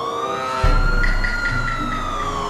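Wailing ambulance siren from the video game Sakura School Simulator, a rising and falling electronic tone sweeping steadily, joined by a low engine rumble partway through, loud and close with no talking.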